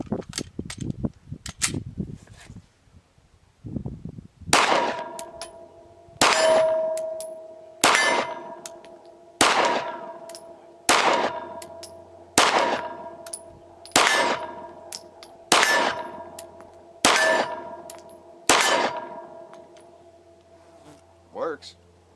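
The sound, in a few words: ten pistol shots fired from P10C, Hornady 124 grain XTP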